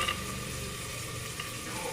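Field beans and tomato fry in a pan with a quiet, steady sizzle, with faint stirring scrapes and no voices.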